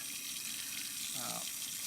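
Hot water runs steadily from a tap into a sink, a continuous faint hiss and splash with no break.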